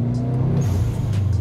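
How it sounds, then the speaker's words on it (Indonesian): HKS blow-off valve on a modified Subaru Impreza WRX, heard as a close, loud engine rumble with a brief airy whoosh and hiss over the idling car, without talk. "Wih, kedengeran tuh blow off."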